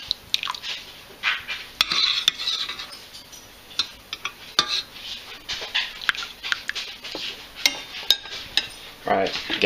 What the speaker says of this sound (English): Spoon here, get the bags out.